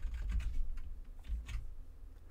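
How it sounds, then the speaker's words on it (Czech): Computer keyboard typing in bursts of quick keystrokes, close and fairly loud, entering a short word while coding JavaScript, with no talking. "a napíšu tady třeba David"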